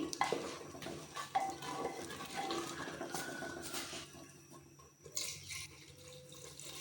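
A spoon quietly stirs and scrapes lentils in a pot for daal, with soft continuous clinks and wet shuffling.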